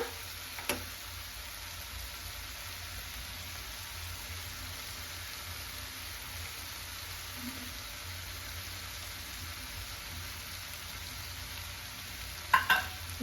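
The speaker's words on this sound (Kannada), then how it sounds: "ಉಪ್ಪು ಹಾಕ್ಬಿಟ್ಟು ಚೆನ್ನಾಗಿ ಫ್ರೈ ಮಾಡೋಣ." Tomato and onion fry with salt in a pan for a spring onion curry, giving a faint, steady sizzle throughout, with a couple of sharp utensil clicks near the end.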